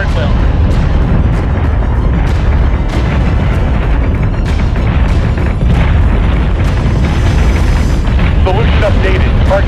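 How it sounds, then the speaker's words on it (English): Ship weapons firing in the space combat video game Battlestar Galactica Deadlock, continuous loud booming cannon fire and explosions with repeated sharp bursts throughout, under intermittent radio-style voice chatter. "Fire at will."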